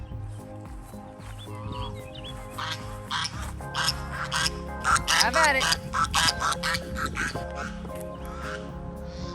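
Backyard chickens squabble over tossed garden scraps, a burst of clucks and squawks rising in the middle and trailing off, with someone speaking briefly over them.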